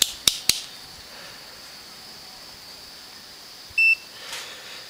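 A few sharp clicks at the start, then a short, steady electronic beep from a multimeter continuity test on a battery cell, followed by quiet background hiss.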